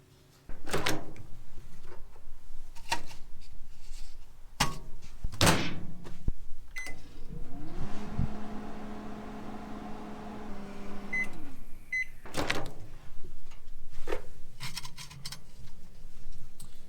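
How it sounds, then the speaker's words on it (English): Used microwave oven at a scrap metal yard running with a steady hum, bracketed by door clunks, clicks and handling knocks at close range, with a brief quieter stretch between. "microwave works"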